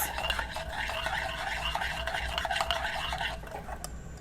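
A spoon stirs a brown sugar honey latte in a cup, with quick, continuous scraping and clinking strokes, close and fairly loud, and no one speaking.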